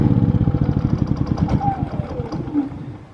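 A Harbor Freight 3500 generator engine running with a rapid, chugging pulse that loosens and slows as it is shut down, the rhythm fading and breaking up toward the end.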